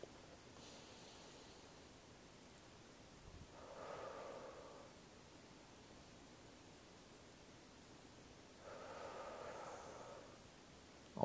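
Slow, deliberate breaths during a guided heart-rate-variability breathing session, two soft airy swells about five seconds apart, quiet and close over a faint hiss, with no talking.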